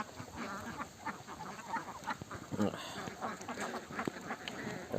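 Ducks quacking repeatedly at close range while standing in dirty water, over a murky outdoor background, with a person talking in between.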